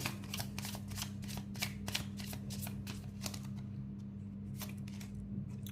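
Tarot cards shuffled by hand for a pick-a-card reading: a quick run of crisp riffling flicks over a steady low hum, thinning to a few scattered snaps near the end, close and fairly quiet.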